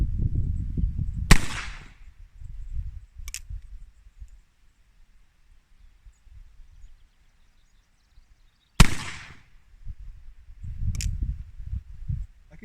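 Two sharp, loud gunshots from an 1851 Navy revolver with an 1871 cartridge conversion ring out several seconds apart at a shooting range, each followed by a brief echo, with quieter clicks and handling noise between them.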